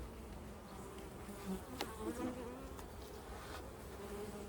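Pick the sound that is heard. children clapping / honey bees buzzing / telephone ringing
honey bees buzzing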